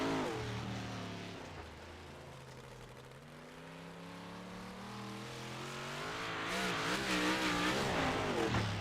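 Race car at Lincoln Speedway in a Thunder Racing League event, engine note rising and falling through the turns, loud and close, building toward a harder rev near the end with no talk over it.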